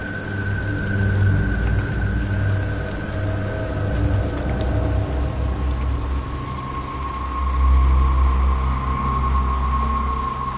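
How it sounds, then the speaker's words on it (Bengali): Steady rain pours throughout as a story sound effect, with low thunder rumbling beneath it and swelling louder toward the end; no one speaks. "বৃষ্টি একদম থামছেই না, তার সাথে বজ্রপাত হচ্ছে"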